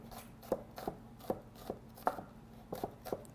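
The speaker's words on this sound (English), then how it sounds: "Try to get the garlic pieces as fine as you can possibly get them" Knife mincing garlic on a cutting board, about ten crisp close taps in a loose, uneven rhythm, fairly quiet with no talk over it.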